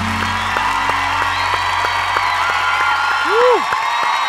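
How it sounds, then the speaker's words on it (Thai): Applause from a televised singing competition audience rolls on steadily for several seconds over a low hum, with a brief vocal sound near the end. "ขอเสียงปรบมือ"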